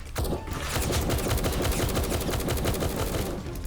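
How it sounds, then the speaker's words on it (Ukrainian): Rapid automatic gunfire aimed at a plane in the Roblox game Military Tycoon, a dense continuous burst of shots, loud and close, with no speech. "Стріляємо сюди по цьому літачку."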